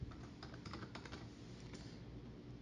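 Computer keyboard typing at close range, a quick burst of soft clicking keystrokes that thins out toward the end, with no voice over it.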